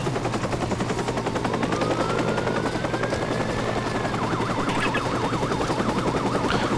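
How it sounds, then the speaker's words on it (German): A helicopter in the Watch Dogs video game gives a constant thudding rotor drone that fills the scene, with a siren wailing and bursts of gunfire mixed in. "Und das Problem heißt Helikopter."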